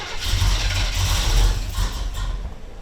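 Muscle car engine cranking with a continuous low rumbling starter churn and faint popping, loud and close, ending with a brief tail of mechanical noise and no speech.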